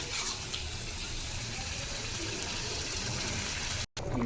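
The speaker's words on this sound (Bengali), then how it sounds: "মাছ আর আলু কষে তারপর গরম জল দিয়ে দিচ্ছি।" Hot water pours into a pan of braised fish and potatoes, a steady close gush lasting about four seconds with a brief cut near the end.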